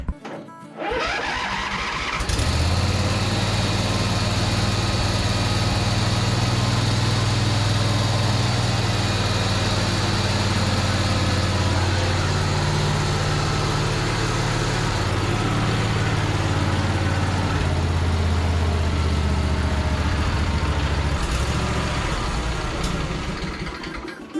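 A Craftsman zero-turn mower's small V-twin engine cranks and catches, then idles loudly and steadily for about twenty seconds with a slightly uneven, throbbing rhythm.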